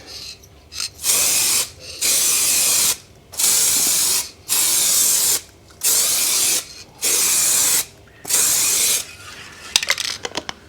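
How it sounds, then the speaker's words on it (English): An aerosol spray can misting lacquer onto a BMW E46 330Ci, close and loud, in seven even bursts of hiss separated by short silences. "we'll really give it a misting and then start flood it on once you've got a base coat of lacquer"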